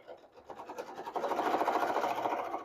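A sewing machine stitches a seam on a Tessa bag, starting with a few short spurts and then running steadily at close range. The stitching sounds soft and fast, and the back stitch falls somewhere in that run.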